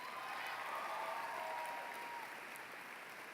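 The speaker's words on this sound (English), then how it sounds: "Give your principal a round of applause." Steady, even applause from a commencement audience at Howard High School honoring the principal, a dense wash of clapping that holds at constant loudness throughout, fairly distant with no clear voices on top.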